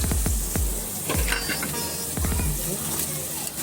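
Onions cooking with ginger-garlic paste in a pan for a Hyderabadi-style chicken dish, giving a steady close sizzle with repeated spoon scrapes and clinks against the metal.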